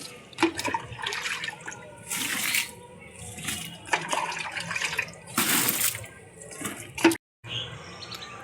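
Water poured by hand onto ginger plants in a garden bed, coming in several separate splashing bursts with quieter gaps between them.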